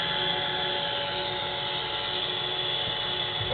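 Simulated helicopter in the RealFlight video game, a steady whining rotor and engine drone that holds constant and fairly loud throughout, with no voices.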